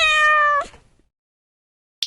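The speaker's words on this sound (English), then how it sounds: "cat." A single clear cat meow, loud and close, fading out after half a second, followed by silence and a brief faint click.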